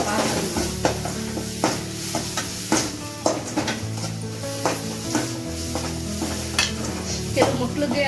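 Chopped onions for a Kannada-style okra palya sizzling in a pan, stirred continuously with repeated scraping and clinking of a utensil against the metal, close and steady over the frying hiss.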